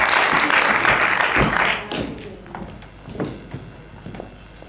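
Applause for café, bistro and terrace owners being honoured at a Dutch starter-of-the-year event: a dense burst of clapping for nearly two seconds that then thins into scattered, softer individual claps and taps.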